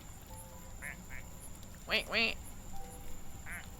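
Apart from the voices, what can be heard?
fireman duck quacking in a video game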